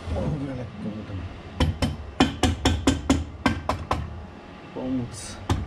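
A hammer taps during an engine rebuild on a Husqvarna TE250 TPI motorcycle, about ten sharp close metallic knocks in an uneven rhythm, with someone talking before and after them.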